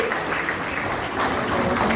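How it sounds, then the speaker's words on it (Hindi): Audience applause at a student award ceremony honouring school pupils, steady dense clapping filling the whole moment without a break, fairly loud and even. "तालियों का सिलसिला ख़त्म नहीं होना चाहिए।"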